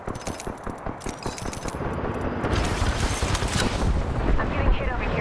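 Sustained automatic gunfire in an Apex Legends match rattles close and loud, a fast stream of shots that swells into a dense, roaring barrage, with voices heard briefly.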